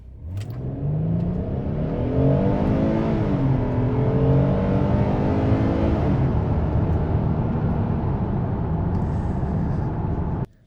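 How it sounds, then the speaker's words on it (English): A 2025 Hyundai Palisade SUV accelerates in comfort mode, its engine rising in pitch through smooth gear shifts, then holding a steady cabin drone with road noise before it cuts off. "Let's start off in comfort mode and see how it accelerates."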